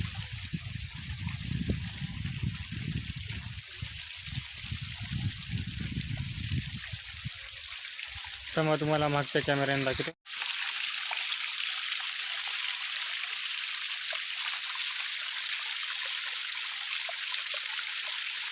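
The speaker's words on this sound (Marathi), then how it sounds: "आमच्या इथे एक धबधबा सुरू झालेला आहे नदीला" A small summertime waterfall spilling into a river gives a loud, steady rushing roar close by, with someone speaking briefly over it partway through and a short break in the sound.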